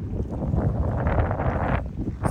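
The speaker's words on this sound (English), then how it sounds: "It's a bit windy, a bit chilly." Strong wind buffets a microphone outdoors by a coastal inlet, a loud continuous low rumble with gusty surges throughout.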